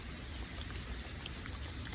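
Rain falls steadily during fall trout fishing in the Anchorage bowl, a constant soft patter with no clear breaks.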